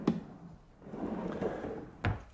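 A large, deep drawer on a miter saw station slides open or shut, with a sharp knock at the start and another at the end and a soft rolling rumble between, close by with no talking.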